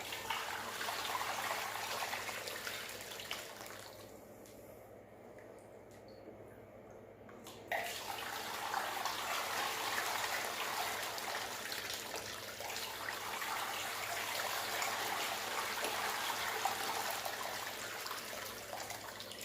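Gold panning produces a quiet, continuous wash of water sloshing and trickling in a pan. A brief lull comes partway through before the steady swishing resumes.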